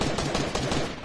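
Gunfire rings out in the Fortnite Chapter 2 battle royale game: a dense, steady stretch of rapid shots fills the whole moment at close range with no pauses.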